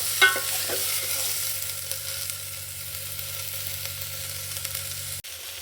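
Steady sizzle of food frying in a pan while cooking avarekalu husli, a continuous close hiss with a low hum underneath and a stir knock early on.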